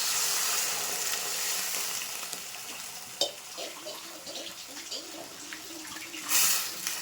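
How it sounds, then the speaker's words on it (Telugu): Water is poured into a pan of frying ivy gourd, tomato, onion, green chili and brinjal pieces for chutney, giving a steady close sizzle and hiss that eases, with brief splashy bursts near the middle and end. "ఇప్పుడు కొన్ని వాటర్ పోసేస్తున్నాను."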